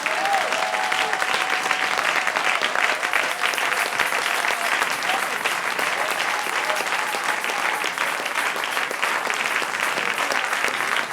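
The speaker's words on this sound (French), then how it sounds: "Nous acclamons le Seigneur" A church congregation at a Sunday service claps and cheers in sustained, dense applause that stays loud and even for about eleven seconds, with faint voices mixed in.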